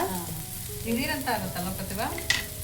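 Capsicum and onion sizzle and fry together in a pan over low flame, a steady crackling hiss with occasional stirring scrapes, close and alone.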